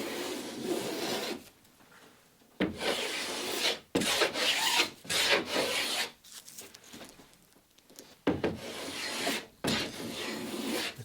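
A hand plane shaves cedar while repairing a damaged lapstrake garboard on a small wooden boat, making a series of close, rasping strokes about a second long, separated by short gaps.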